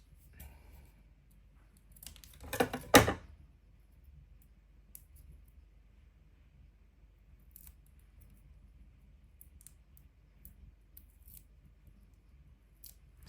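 Foam pads for scrapbooking being cut down with scissors: a short cluster of crisp snips about a second long, close by and fairly loud, with quiet room noise before and after.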